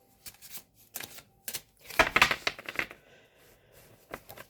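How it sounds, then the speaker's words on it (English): A tarot deck is shuffled in quick papery bursts, with soft riffles and flicks building to a denser flurry in the middle before trailing off into lighter taps, close and fairly quiet. "one more shuffle"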